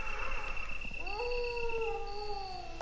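Dogs howl in Resident Evil Director's Cut on PS1: long, wavering howls rise and bend over a steady ambient drone, fairly faint and with no voices.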